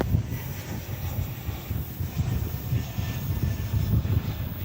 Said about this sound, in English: This is American Flight 479, Airbus A321.